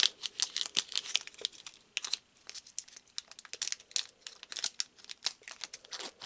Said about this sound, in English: Oh, that pack does not want to open.